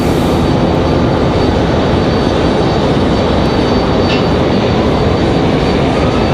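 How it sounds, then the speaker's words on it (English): A Delta CRJ regional jet at Raleigh-Durham airport produces a loud, steady, broadband engine roar that fills the whole stretch without a break and with no voices. "There's our Delta CRJ."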